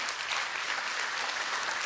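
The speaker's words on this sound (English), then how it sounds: "And offer them a round of applause." Applause at a nursing college graduation ceremony, a dense, even spread of many hands clapping, steady and moderately loud for the whole short stretch without speech.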